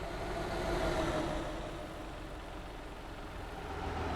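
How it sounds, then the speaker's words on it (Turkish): Heavy trucks rumble past one after another on a busy road, a steady broadband engine and tyre roar swelling and easing as each passes nearby, with no talk. "Kamyon geliyor. Tır geliyor. Bir tane daha tır geliyor."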